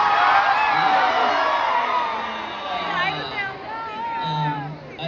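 A live concert crowd at a show cheers and whoops loudly, high excited shouts and screams swelling and dipping across a few seconds, close and dense.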